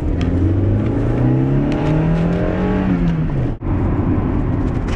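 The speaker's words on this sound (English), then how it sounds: "I like driving fast." Close-up car engine roars hard, revving up through rising tones while driving fast, dropping briefly for a gear change before pulling on, loud and continuous with no voices.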